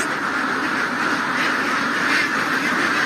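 Ducks crowded inside a laying pen, a large flock of young layers being conditioned to lay eggs, keep up a loud, dense, continuous chorus of quacking close by, with no talking.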